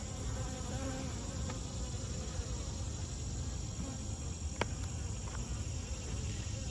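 Honeybees buzzing in an opened hive during a hive inspection, a steady dense drone close to the listener that holds unbroken throughout, with a few faint clicks from handling and no voices.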